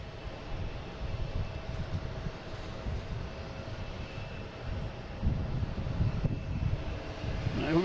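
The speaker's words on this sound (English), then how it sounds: "We have American Airlines coming from JFK, E175, flight 4346" American Airlines Embraer E175 regional jet arriving at Boston Logan from JFK, a steady mid-distance jet engine roar with broadband rumble that swells slightly louder toward the end, no voices.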